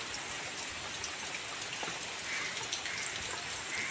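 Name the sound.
rain falling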